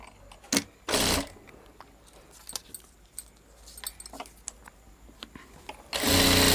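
A sewing machine stitching a blouse runs in short loud whirring bursts, with a longer run at the end and quiet handling clicks and rustles between.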